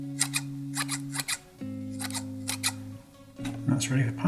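Scissors trim twine for model trees with a string of quick, crisp snips in short bursts, close up, over a steady electrical hum, while a person talks softly at the end.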